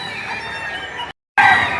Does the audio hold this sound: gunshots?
no